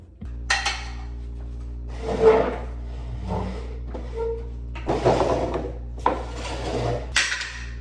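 Wax being rubbed by hand across a wooden dining table during a makeover, giving repeated soft scrubbing strokes in bursts with short pauses, close and moderately loud, with a low steady hum underneath.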